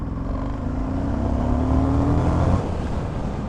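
An Indian FTR 1200S Race Replica motorcycle's engine runs steadily at about 2000 rpm with a deep, rumbling tone that rises slightly in the middle, loud and close with no one talking.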